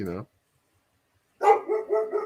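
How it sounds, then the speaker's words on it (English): A dog barks in the background, one short bark and then a burst of several barks after a pause, moderately loud. "Can you hear my dog?"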